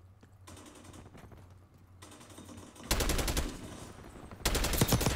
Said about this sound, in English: How many times did I shoot him?